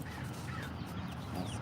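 Crows caw briefly against a continuous low roar of wind, a couple of rough calls at moderate distance with nobody talking.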